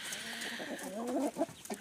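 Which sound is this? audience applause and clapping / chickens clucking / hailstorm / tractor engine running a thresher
chickens clucking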